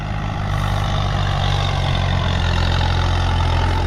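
Kubota M8808 farm tractor engine idling close by in Ubon Ratchathani: a loud, steady low rumble with a constant throb holds without change from start to finish, and no one speaks.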